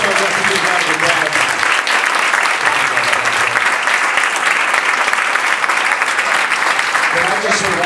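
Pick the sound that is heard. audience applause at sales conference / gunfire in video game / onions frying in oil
audience applause at sales conference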